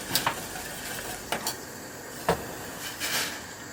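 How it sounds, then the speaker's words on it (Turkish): Spoon stirring granulated sugar into hot water in a pot to dissolve it, a few light scraping clinks spaced out over a soft background hiss, close and fairly quiet. "Şeker eriyene kadar karıştıralım."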